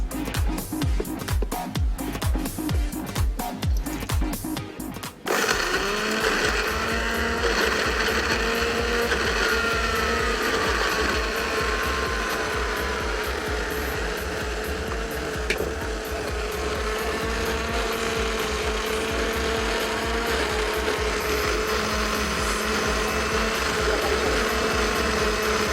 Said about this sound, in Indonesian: Tutup dan kita blender hingga halus.